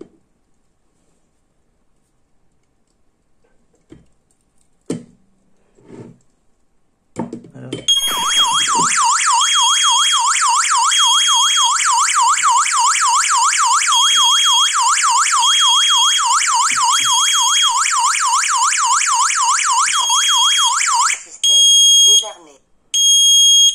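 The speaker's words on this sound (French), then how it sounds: "on reçoit des notifications et l'alarme, il faudra la désactiver manuellement" Digoo DG-SA01 433MHz connected smoke detector goes off after a few faint clicks and handling noises, emitting a loud, piercing, rapidly pulsing electronic alarm that holds steady for about thirteen seconds before cutting out, then briefly restarts.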